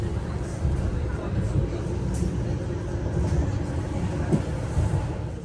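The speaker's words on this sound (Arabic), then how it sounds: "صافي هاد الترام غيديني حتى البلاصه اللي بغيت" A tram rolling through a Belgian city, a steady low rumble of wheels and motor with faint rattles throughout, close and continuous without pause.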